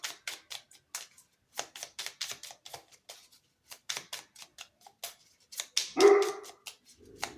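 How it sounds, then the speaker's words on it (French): A dog barks in a quick series of sharp, clipped yaps, repeated in bursts at moderate distance with brief pauses between, ending in a longer louder cry and a low rustle. "Et mon chien aboie."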